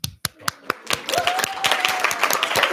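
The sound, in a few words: student senate clapping to welcome new members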